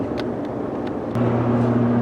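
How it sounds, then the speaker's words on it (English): Steady low road rumble and engine drone inside a moving 2014 Ford F-150 pickup truck after a brake pad replacement, with a tonal hum that steps up partway through and faint ticks above. "Definitely hearing some road noise."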